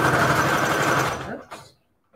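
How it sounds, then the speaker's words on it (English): A sewing machine runs a steady zigzag seam, stitching embellishments onto a Christmas jar project, a loud continuous whir for over a second before slowing and stopping, followed by near silence. "are going to sew down this side right here. Zigzag."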